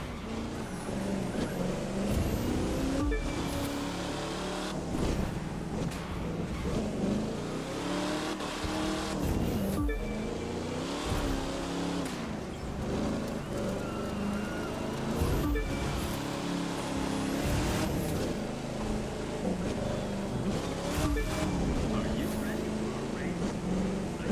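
Car racing in The Crew 2 on PS5, with engine revving and gear-shift surges rising and falling continuously, punctuated by sharp transient bursts, while a voice talks over the game audio.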